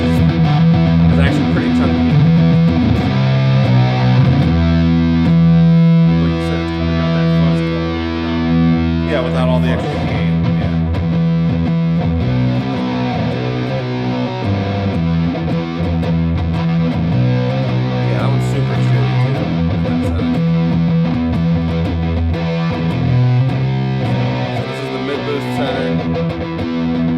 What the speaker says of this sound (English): There's the low boost setting, which is actually pretty chunky.